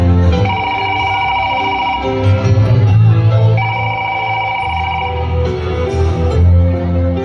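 A telephone rings in two repeated bursts of bright, trilling tones during a ritual dance performance at the Siomai sa Tisa Festival 2025, heard over a low rumble of drums and crowd.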